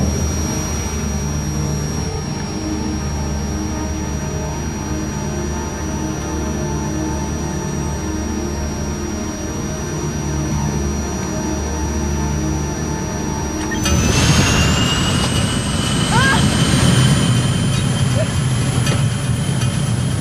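An airplane noses into a dive. A steady engine drone with a high whine holds, then near the end the pitch rises abruptly into a louder, rougher roar.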